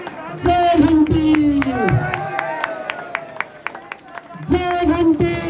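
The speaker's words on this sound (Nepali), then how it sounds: "जोरदार ताली, कृपया ताली बजाउनुहोला।" Applause and crowd noise from an audience at a Rastriya Swatantra Party gathering, rising at the start and end with a host's amplified voice talking over the hall between bursts.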